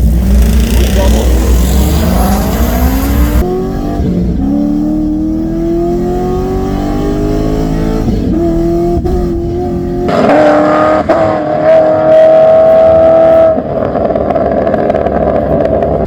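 A street car accelerates hard at a StreetCar Takeover race, its engine loudly revving and climbing through several gears with brief shift breaks, losing power in third gear, close and continuous, and a voice talks over it.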